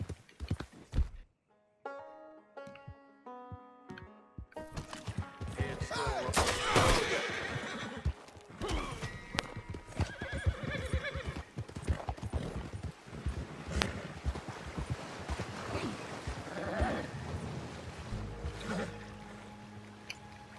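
A horse whinnies loudly near the start in Red Dead Redemption 2, followed by clopping hooves, splashes and busy game-style effects, with a few musical tones at first.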